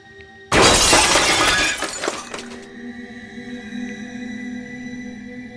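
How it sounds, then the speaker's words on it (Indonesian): Glass shatters in a sudden loud crash that scatters into tinkling debris for about two seconds, followed by a low eerie drone, as a sound effect in a horror story narration. "disusul oleh suara kaca pecah yang begitu memekakan telinga"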